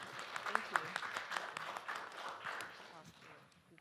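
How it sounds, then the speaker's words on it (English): Audience applause breaking out in a room after a talk, a dense patter of many hands clapping at moderate distance, with some voices mixed in before it thins toward the end. "Let's clap."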